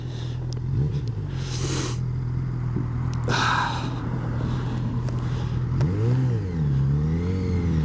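A 2022 Honda CB1000R Black Edition motorcycle engine drones steadily at close range, its pitch dropping under engine braking through a downhill bend, then rising and wavering as it revs again toward the end.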